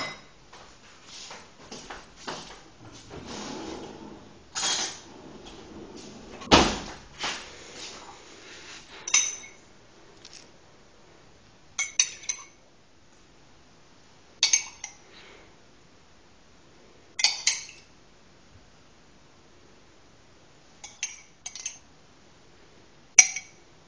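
A spoon clinks against a dish while a tiramisu is put together, with several quick metallic taps early on, then isolated, sharp clinks every few seconds, fairly close, against near silence.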